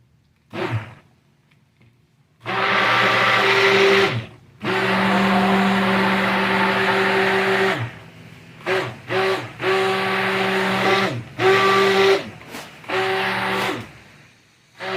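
A stick blender whirs loudly while mixing green tea cucumber soap batter, running steadily for several seconds and then cutting on and off in short bursts.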